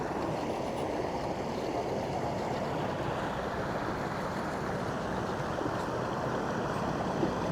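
Steady, powerful roar of rushing flood water after continuous rain near a damaged bridge, broadband and continuous throughout with no pauses, like a swollen stream surging nearby.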